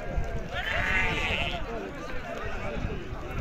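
Sheep bleat once at a Moroccan livestock market selling Berki and Kasbi rams, a bright drawn-out call rising over steady crowd chatter and background talk.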